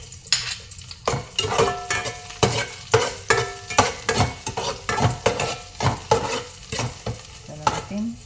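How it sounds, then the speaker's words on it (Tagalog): Garlic sautés in a pan as the base for fish budloy sarciado with cabbage, with rhythmic metal spatula scrapes and clanks against the pan over a soft frying sizzle, close and distinct. "magigisa na po tayo ng ating panakot"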